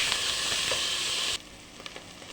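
Mushrooms sizzle in a pan for a creamy white-sauce pasta, giving a close, bright hiss that cuts off sharply partway through and leaves faint stirring and clatter.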